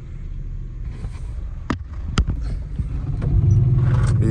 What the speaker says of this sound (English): Gotta let the truck idle a little bit.